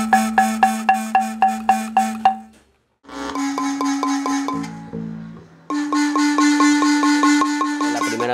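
A marimba plays rapid repeated notes with a distinct buzzing rattle from its membrane over each stroke, loud and close, pausing briefly between phrases.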